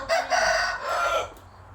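A rooster crows once, loud and close, a drawn-out call lasting over a second.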